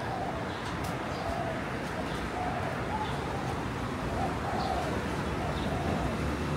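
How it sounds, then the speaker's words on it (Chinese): Pigeons coo on a hostel rooftop terrace in Taipei: soft, repeated throaty coos rise faintly above a steady outdoor hum of distant traffic and wind. "现在可以听到那个鸽子的声音。"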